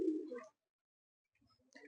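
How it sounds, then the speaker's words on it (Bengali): A pigeon gives a soft, low coo, brief and close, followed by a pause and a faint second murmur. "এই পায়রাটা খুব সুন্দর পায়রা"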